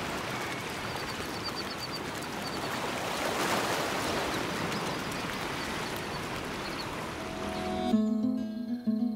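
Ocean waves wash steadily onto a sandy beach on the coast of El Salvador, a broad continuous surf rush that swells midway, then gives way near the end to a quieter scene with distinct tonal sounds.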